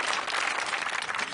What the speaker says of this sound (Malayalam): മ്യൂസിക് ഡിപ്പാർട്ട്മെന്റ് രാജനും ഒരു വലിയ കൈയടി കൊടുക്കണം.